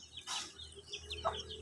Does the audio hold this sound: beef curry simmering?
no